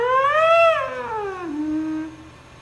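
A human voice mimics a blaring car horn approaching and passing, holding a high pitch before sliding down sharply in a Doppler-like drop, alone and moderately loud.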